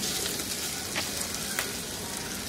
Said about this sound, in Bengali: এখন আমি ওই ডিমের এটার মধ্যেই যেটুকু তেল বাচ্ছে তার মধ্যে সয়াবিনগুলোকে একটু ভেজে নিব।